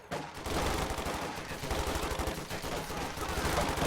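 Heavy .50 cal machine gun fire in a World War II video game, rapid sustained bursts of dense, loud automatic shots continuing throughout with no pause.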